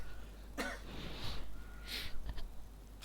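Two or three rough, breathy coughs sound close to the microphone over a quiet low hum, without talk.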